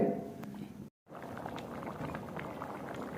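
Chicken liver and tripe cooking on a high flame while the remaining liquid boils off, giving a steady bubbling sizzle that breaks off for a moment of silence and then resumes just as busily.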